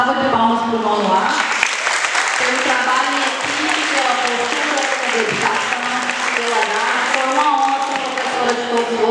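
An audience applauds at a ninth grade graduation ceremony at a municipal school, with dense, loud clapping running throughout while voices talk and call out over it.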